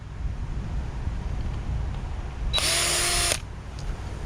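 A cordless power drill spins out a screw while a tankless water heater is taken apart for scrap, one short burst of close whirring under a steady windy background hiss.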